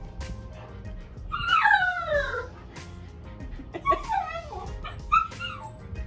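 A puppy whimpers and yips from behind a backyard fence, high whining cries rising and falling in two drawn-out bouts, fairly near, with other dogs around.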